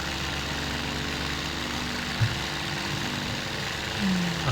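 Droning piston engine of a Fokker Dr.I triplane in Flight Simulator 2020, steady and fairly loud, with a rising throttle-up whine near the end.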